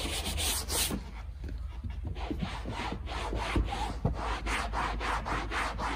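A brush scrubs grained automotive leather up close in quick back-and-forth rubbing strokes, a soft rhythmic scratching that repeats steadily with no voices.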